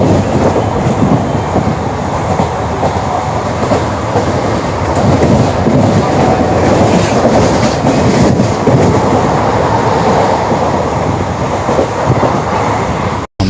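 A Haridwar–Muzaffarnagar–Delhi express train rolls along, heard from inside the carriage as a loud continuous rumble with rattling wheel clatter, steady throughout before an abrupt cut at the end.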